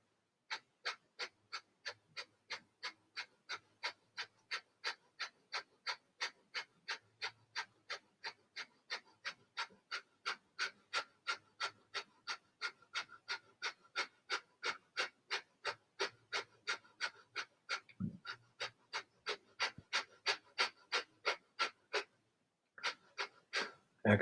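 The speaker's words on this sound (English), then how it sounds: "And begin a fire breath." Rapid, rhythmic breath of fire in a kundalini yoga session, with dozens of sharp, evenly spaced nasal pants close up, continuing steadily for over twenty seconds with one brief pause near the end.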